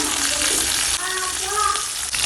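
Green chillies and capsicum frying in a pan while Bengali hilsa in mustard paste is being cooked, a loud close sizzle with stirring clatter throughout, a voice speaking briefly over it.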